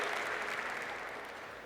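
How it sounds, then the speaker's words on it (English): A conference audience at a Google developer lightning-talk event in India gives sustained applause, a dense wash of clapping that carries on evenly and fades only slightly by the end. "Please give him another round of applause, guys"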